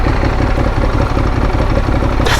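A motorcycle idles in neutral at a red light on a Paris street, with a steady, loud, low mechanical drone and constant vibration close by, unchanged for a couple of seconds.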